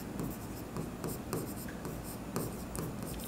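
Pen writing on paper during a Bengali accounting lesson, quick scratchy strokes in short bursts with small pauses, close and quiet, no talking.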